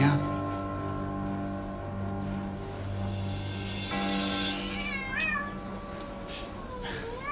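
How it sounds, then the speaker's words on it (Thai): A cat meows during play, its rising and falling calls sounding close over a steady bed of background music and people talking. "เล่นกับแมว"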